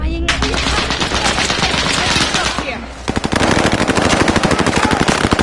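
Loud video game gunfire: a sustained roaring barrage, then rapid machine-gun bursts firing in fast, even rhythm close up.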